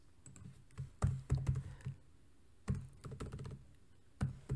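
Keys on a computer keyboard tapped in short irregular bursts, close and fairly quiet, with brief pauses between clusters of strokes while entering HTML tags.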